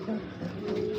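A large racing Giribaz pigeon, which has just laid its first egg, gives a short, low coo close by while someone talks over it.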